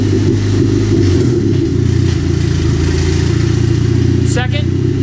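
A turbocharged Chevrolet Cobalt SS pulls hard in second gear, its loud engine droning steadily up close with a faint whistle near the end and no talk over it.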